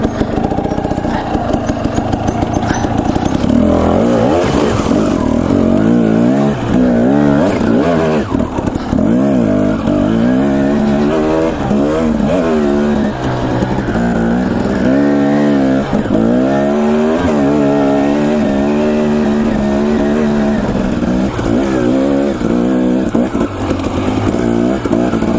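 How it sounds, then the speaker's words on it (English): A dirt bike engine revs repeatedly through its range on rocky single track, loud and close, with rapid rising and falling pitch sweeps over a steady buzzing drone. "This bike has no trouble climbing through the RPMs now."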